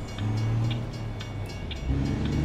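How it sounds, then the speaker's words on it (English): Train from the American Truck Simulator game rolling past nearby, a steady loud rumble with sustained low engine drone and regular clacking of wheels over rail joints, without talk. "Is that the train over there going by?"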